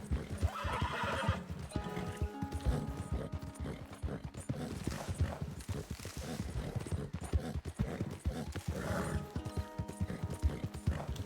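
A horse in Red Dead Redemption 2 gallops with steady rhythmic hoofbeats and lets out loud neighs and whinnies, the game audio dense and continuous with no talk over it.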